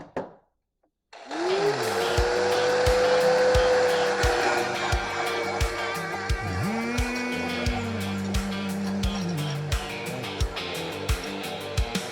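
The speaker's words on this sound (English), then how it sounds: "we're just going to take a wire wheel and grinder and see what we can get cleaned up here" An angle grinder fitted with a wire wheel cleans up metal, its motor spinning up with a rising whine and then running steadily, with its pitch shifting as the brush loads against the workpiece and repeated scratchy ticks throughout.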